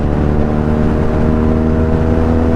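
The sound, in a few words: BMW R nineT 1200cc motorcycle engine revving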